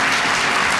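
A church congregation bursts into loud, full applause, a thick continuous wash of many hands clapping close by, filling the short moment without any voices.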